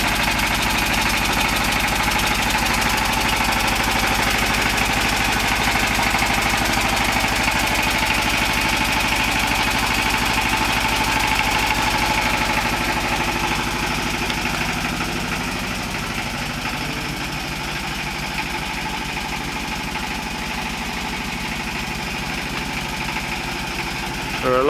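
A Lister S1100 stationary engine running on filtered waste vegetable oil chugs steadily with a low, knocking idle, heard close by at the exhaust and continuous throughout without talk.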